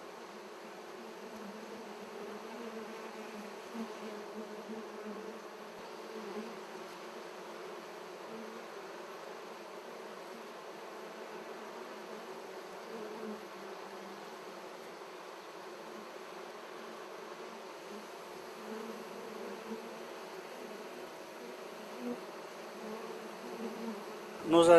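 A thriving honeybee colony living in a tree hums with a steady, dense buzz, a soft continuous drone holding at an even level throughout.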